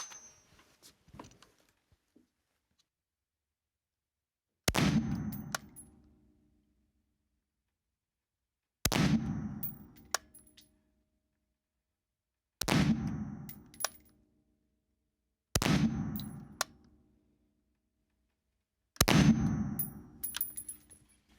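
Springfield Hellion 5.56 bullpup rifle firing with a red dot at a target, five loud, sharp reports spaced a few seconds apart, each ringing out with a metallic clang and trailing off, some closely followed by a second hit.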